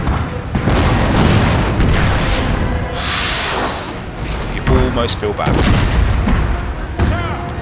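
Napoleon: Total War cannon fire during a Prussian battle: repeated loud booms and crackling volleys roll over dense battlefield rumble, while someone speaks briefly between the blasts.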